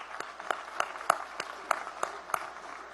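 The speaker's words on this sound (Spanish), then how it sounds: "voy a pedir un aplauso de una vez, arrancando, a nuestro Bolívar" Sparse, spaced claps echo through the Venezuelan National Assembly during a budget session, a loose rhythmic series of separate hand strikes in a large chamber, fairly faint.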